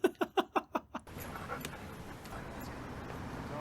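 A few sharp yips or barks come first, then a dog in a film pants quickly and steadily under a soft, continuous background hiss.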